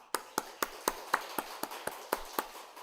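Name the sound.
clapping hands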